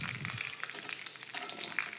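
Chopped cashews, green chili and ginger frying in hot oil, a brief close crackling sizzle with light stirring.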